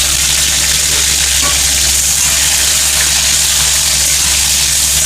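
Onion, tomato and green chili sauté in a hot pan after mustard seeds have popped, a loud, steady broadband sizzle close up with faint stirring scrapes and no talk.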